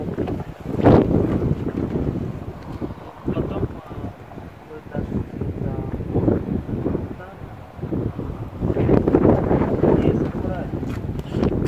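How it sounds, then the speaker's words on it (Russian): Strong, irregular wind gusts buffet the microphone outdoors in the open air, rising and falling in loud surges throughout, with voices talking underneath. "Это порывы ветра сильные, непонятно, когда дернет."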